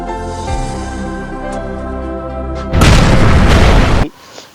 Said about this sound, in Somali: qarax